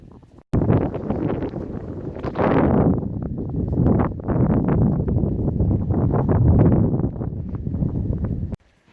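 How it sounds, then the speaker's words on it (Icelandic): Wind blows hard across a microphone outdoors on an Icelandic mountain hike near Þingvellir, a loud gusting rumble that swells and eases in waves, with no talk. "Svo þetta var að koma einhver smá vindur"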